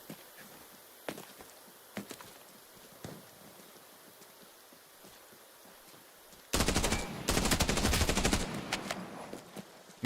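Automatic gunfire in a Nerf-themed first-person shooter game: a few isolated shots early on, then a loud sustained burst of rapid fire lasting several seconds before tapering off.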